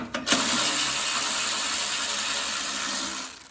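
A power ratchet or driver runs steadily while removing bolts from a Yard Machines snow thrower, making a continuous loud mechanical whir for about three seconds after a short start, close up and without talk.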